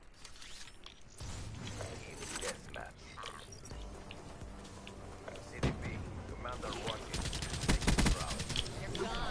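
Gunfire in Call of Duty Black Ops 3 online multiplayer on PS4, a busy mix of scattered shots, bursts and mechanical clanks throughout, with people talking over the game sounds.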